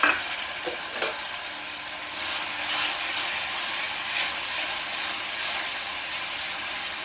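Onion, garlic, ginger and green chili paste frying in a pan for a paneer dish gives a loud, steady broadband sizzle with a brief clatter early on, no voices.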